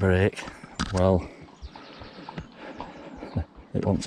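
An e-bike's back brake creaks and squeals in repeated short, scratchy bursts, close by, between bits of a man's speech.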